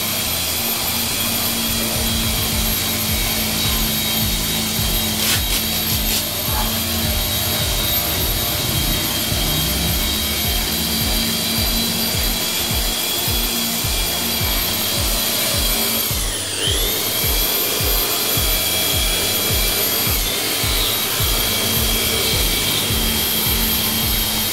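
A power polisher works on a car tail light lens, a loud continuous high-pitched whine with a steady droning motor hum that barely changes in level and dips briefly in pitch once, with no talk.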